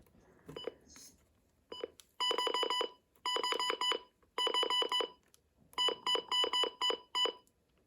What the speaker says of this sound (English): it controls the button beeps as well